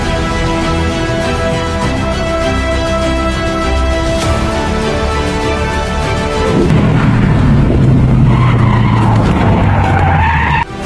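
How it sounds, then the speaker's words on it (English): A car losing control and skidding, a long loud tire squeal with tonal screeching that shifts abruptly partway through into rougher, lower scraping and rumbling before cutting off sharply, with no voices. "The car lost control and plunged into the abyss amid the wind and dust"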